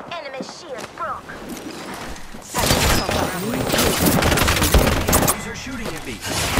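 Dense bursts of automatic gunfire in an Apex Legends-style battle royale match, loud and sustained with overlapping shots, preceded by quieter game effects and voice chatter.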